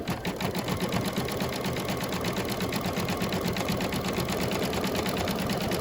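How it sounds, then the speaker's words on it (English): A home embroidery machine stitches a zigzag border around a St. Patrick's Day coaster, a steady rapid mechanical chatter that runs continuously and alone, close and even in level. "A little zigzag stitch going around"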